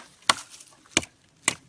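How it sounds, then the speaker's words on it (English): A Gransfors Bruks Scandinavian forest axe, swung one-handed, chops through wood branches in three sharp, evenly spaced strikes, each a crisp close thwack with a short splintering tail and quiet pauses between. "just chopping"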